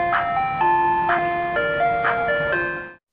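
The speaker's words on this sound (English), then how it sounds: "Ice cream truck." An ice cream truck plays its chiming jingle, a bright, tinkling melody of stepped notes repeating over a faint motor hum, loud and close before cutting off at the end.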